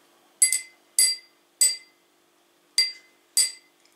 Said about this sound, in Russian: Видишь, звонкий какой? Это стекло.